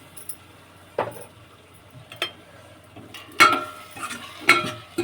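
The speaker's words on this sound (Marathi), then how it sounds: "ह्यामध्ये आता आपण मिक्स करून घेऊया टाकून." Bombil (Bombay duck) and potato being stirred into a spice masala in a pan, with a few scraping, clinking strokes of a spoon against the vessel spread through the quiet.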